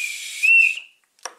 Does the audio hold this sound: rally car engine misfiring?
no